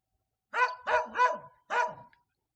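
A village dog barks four times in a quick loud run, three close together and one after a short pause, clear and alone.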